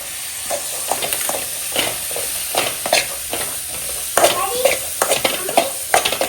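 An omelette fries in a little oil with a bright, continuous sizzle. Busy spatula scrapes and clinks run through it, and faint voices sound in the background.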